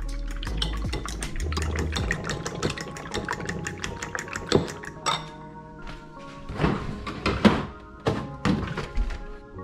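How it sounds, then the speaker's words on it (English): Eggs beaten by hand for batter to coat morel mushrooms, a rapid run of sharp rhythmic taps and clinks against the bowl, then slower scattered knocks as the beating eases off. "I got some eggs here, and I'm going to beat them up."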